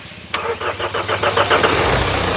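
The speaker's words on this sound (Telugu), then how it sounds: "సింగిల్ సెల్ఫ్లో కార్ స్టార్ట్ అవుతుంది ఎటువంటి స్టార్టింగ్ ట్రబుల్ అయితే లేదండి" A 2015 Mahindra XUV500 W6 diesel engine cranks and fires up suddenly on the first try, then settles into a steady, rumbling idle that grows slightly louder, close by.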